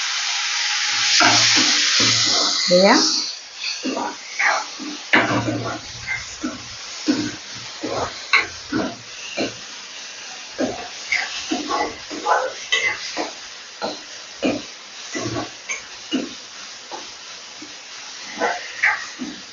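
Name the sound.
frying raw pointed gourd flesh in a pan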